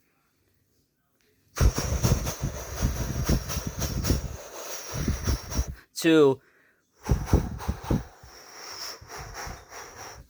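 A voice imitates an underground subway train with a rising, whooshing rumble and rattling, set between stretches of breathy mouth noises and a brief spoken word.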